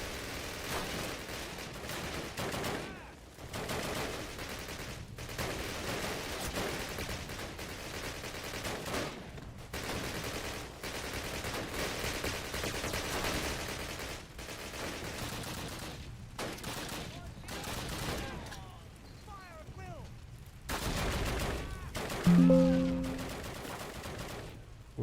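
Video game gunfire rattles in repeated bursts and sustained volleys, with short pauses between bursts across the whole stretch, mid-level and continuous, with a few brief tonal effects near the end.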